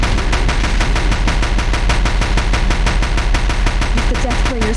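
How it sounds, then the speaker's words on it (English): Deathbringer machines in Horizon Zero Dawn fire their guns in a loud, continuous rapid burst of shots, densely packed and sustained throughout, with scattered higher metallic whines on top. "If the Deathbringers keep firing, this bridge will go"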